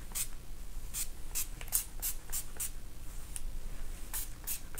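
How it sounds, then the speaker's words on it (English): Quick bursts of heat protectant hair spray hissing close by, about a dozen short pumps in an uneven rhythm against a quiet background. "we are going to spray our hair with heat protectant"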